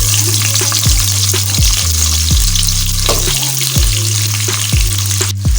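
Onions frying in hot oil for a vegetable kofta curry, a loud continuous sizzle close by with a steady low tonal hum beneath it.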